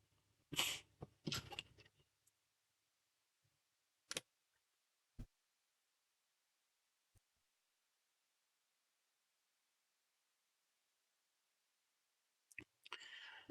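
A single sneeze sounds indoors during a quiet LEGO 10255 Assembly Square build, a sharp close burst near the start, followed by sparse faint clicks of plastic bricks and a short rustle at the end.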